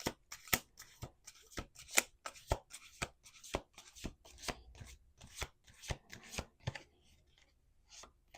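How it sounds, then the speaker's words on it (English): Tarot cards are shuffled by hand in a steady series of sharp riffling snaps, close and fairly quiet, repeating for several seconds before thinning out. "Let's do two more shuffles."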